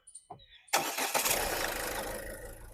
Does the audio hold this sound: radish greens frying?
no